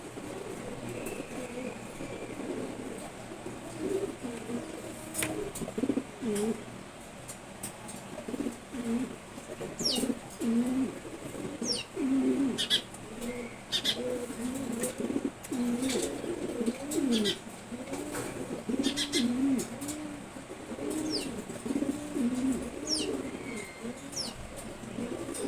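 A pair of red checkered pigeons coo softly and repeatedly in rolling, throaty phrases throughout, close by, with scattered sharp clicks and light background noise.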